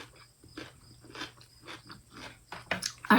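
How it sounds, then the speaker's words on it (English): Crunchy homemade dill and garlic pickle being chewed close up, a series of short crisp bites and crunches in a quiet room, getting louder toward the end. "I don't know whether you can hear me chewing, but they're nice and crunchy."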